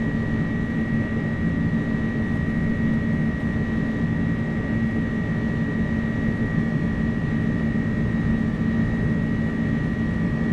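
Steady jet engine roar from an iniBuilds A300 rolling for takeoff in Microsoft Flight Simulator 2024, a continuous loud drone with a constant tonal hum and no change in level, no voices.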